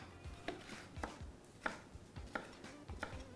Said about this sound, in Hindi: कैप्सिकम के ट्रायंगल्स काट रहा हूँ मैं